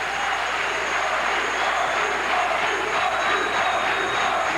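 Large crowd at a 1987 Atlantic 10 women's basketball tournament game at Rutgers' Louis Brown Athletic Center, a steady, loud roar of cheering voices filling the arena without letup.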